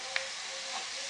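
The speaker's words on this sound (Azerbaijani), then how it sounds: "Təqribən 3 və yaxud da ki 4 dəqiqə yağda soğanla birlikdə qızardıram." Grated potato and onion fry in a pan of oil, giving off a soft, steady sizzling hiss with a small click near the start.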